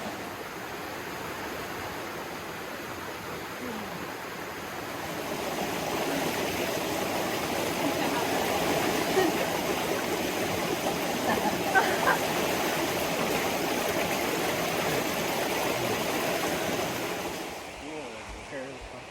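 A flowing river stream runs by a bridge at a swimming hole, a steady broad rush of water heard close and continuous, swelling slightly midway before cutting off near the end.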